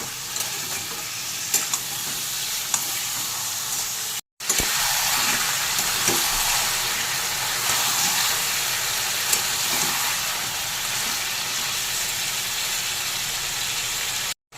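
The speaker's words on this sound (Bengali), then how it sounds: "এবার গ্যাসের ফ্লেম একটু হাই করে দিয়ে আমি চিকেন পেঁয়াজের সাথে আবার একটু নেড়ে চেড়ে ভেজে নেব" Chicken and onions fry on a high gas flame with a loud, continuous sizzle and hiss. Frequent stirring scrapes run through it, with a short break partway, and no one speaks.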